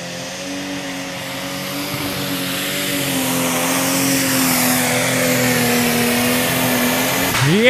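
A pro stock pulling tractor engine at a Euro Cup tractor pulling event in Brande roars loudly and steadily through a full pull, its pitch holding high and climbing slightly before a sharp change at the end.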